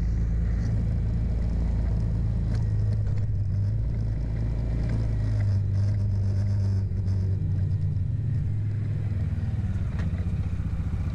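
A four-wheeler ATV carries a load toward a shed, its engine a steady, close, low rumble with occasional clatter and shifts in pitch as it rolls along.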